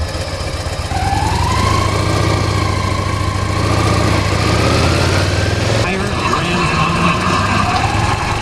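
A vehicle engine runs steadily while riding around Edmonton, a loud continuous drone with a rising and falling whine as the revs shift, briefly changing tone near the end.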